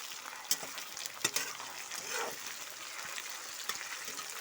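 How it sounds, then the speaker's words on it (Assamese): Chopped tomatoes fry in a pan with onions, a steady close sizzle with clinks and scrapes as a utensil stirs them. "বিলাহীখিনি ভালকৈ সিজালে ভাজিম এনেকৈ লৰাই থাকিম"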